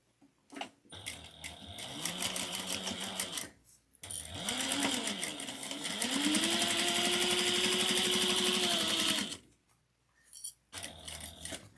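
A sewing machine back stitches a seam on a Soraya divider handbag in several bursts: short runs, a pause, then a longer steady whirring stretch that revs up and down, with brief quiet gaps between.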